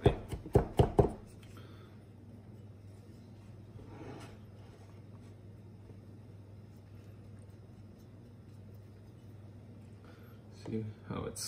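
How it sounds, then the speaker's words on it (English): A thick cleaver knife slicing through peppers: four sharp, quick chops on a board at the start, then a long quiet stretch of low background hum before a faint clatter near the end. "Try slicing through the peppers here."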